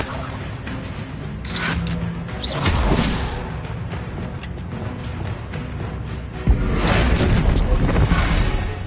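A Bombarda spell explosion in the video game Hogwarts Legacy, a heavy boom with whooshing rushes amid ongoing combat noise, followed by a sharp impact and a sustained loud roar near the end.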